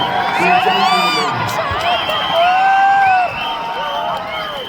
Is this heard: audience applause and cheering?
yes